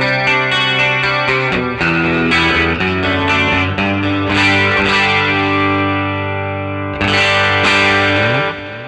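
An electric guitar runs through a chorus effect on the FOMOFX Virtual Jeff Pro pitch-shifting and digital whammy system, playing a loud, shimmering, slightly driven line of picked notes that swells into sustained chords.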